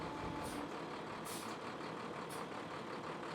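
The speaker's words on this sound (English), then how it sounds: "The truck will then begin to back up very slowly." A brine spraying truck with a raised bed and steel boom backs up slowly, its steady engine rumble close and continuous, with brief hissing bursts like air brakes.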